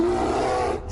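Bear roar from a video game, a brief sustained growling rumble with a rough, raspy texture, loud and alone, cutting off abruptly.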